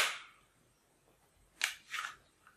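A toy sniper rifle fires: one sharp snap at the start, then two or three quick bursts of clicky noise later on, close and fairly loud with quiet gaps between them.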